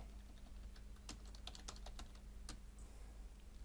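Soft, quiet keystrokes on a computer keyboard tap in an irregular run of clicks over a faint steady hum while text is typed into a Word document.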